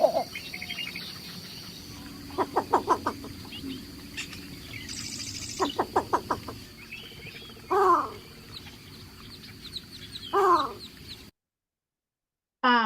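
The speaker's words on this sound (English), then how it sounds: "these guys do a dove-like cooing call for the most part, and then some different little squawks" Recorded black tern calls from a marsh: short bursts of rapid squawking notes, then two separate harsher cries later, over a faint insect-like hiss, ending in a brief silence.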